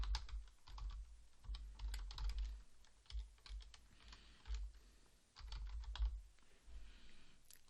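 Steady typing on a computer keyboard, close and fairly loud, a continuous run of clicks and key thumps with brief pauses, no voices.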